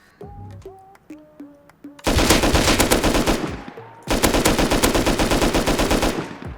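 Rapid bursts of automatic gunfire in the video game Rust, first sparse shots with electronic tones, then two long, loud sustained volleys of machine-gun fire.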